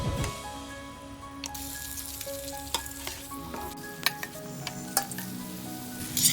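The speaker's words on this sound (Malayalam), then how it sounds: "ഉപ്പൊന്ന് ഇളക്കിയതിന് ശേഷം നമ്മൾ മാരിനേറ്റ് ചെയ്ത് വെച്ചിരിക്കുന്ന ചിക്കൻ ചേർക്കണം." Marinated chicken for a Kerala-style naadan chicken roast hits hot oil in a pan, giving a loud, steady sizzle with crisp pops and spatters, close up and without talk.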